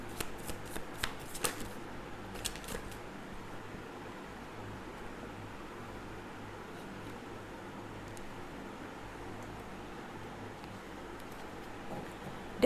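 Tarot cards are shuffled close by in a steady, continuous soft riffle, with a few sharper flicks near the start and no voices.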